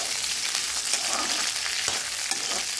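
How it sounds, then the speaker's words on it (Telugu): Okra pieces frying in oil in a pan, cooked first for a curry: a steady close sizzle with soft stirring scrapes, no talk. "నేనైతే ముందుగా బెండకాయలు వేయించి పక్కన పెట్టుకుంటాను"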